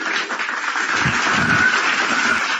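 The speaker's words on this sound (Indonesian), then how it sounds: "Tepuk tangan lagi." Crowd applause at a religious debate gathering, a continuous loud wash of clapping that stays steady throughout with little variation.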